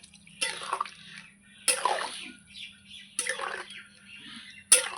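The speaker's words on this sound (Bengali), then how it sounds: "আর একটু দেব জল" Water pours and splashes into a pan of Bengali fish curry in three separate bursts, each fading before the next, with quiet pauses in between and no voices.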